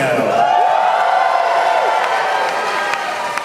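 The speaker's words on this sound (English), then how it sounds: "what a polite smattering of applause that was" Audience at a drag comedy show in Los Angeles, a steady roar of crowd cheering and clapping with whoops and voices, loud and sustained throughout.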